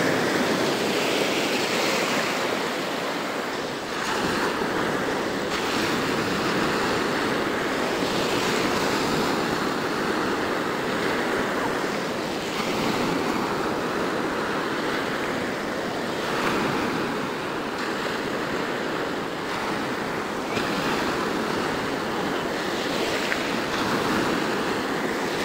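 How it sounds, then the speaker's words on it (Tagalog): Big sea waves roll and crash without a break off a shore where fishermen haul in a net, a heavy, dense roar of surf mixed with gusty wind and no voices. "Lalaki ng alon ngayon."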